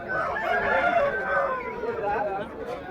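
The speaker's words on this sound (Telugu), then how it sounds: "కోళ్ళు చూడండి ఎలా ఉన్నాయో" Fighting roosters at a cockfight ring crow in overlapping calls, a fairly steady, moderately loud stretch of crowing over a soft crowd murmur.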